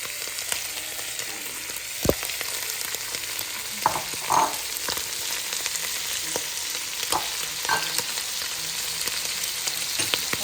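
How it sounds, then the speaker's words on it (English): Italian sausage and portobello mushrooms fry in a pan with a loud, continuous sizzle, broken by occasional utensil taps and stirring scrapes. "And then I'm gonna add my delicious portobello mushrooms back in here."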